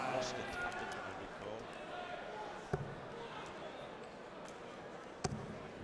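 Two darts strike a dartboard at a World Matchplay match in Blackpool, each a sharp, faint thud a few seconds apart, under a murmuring arena background and commentary.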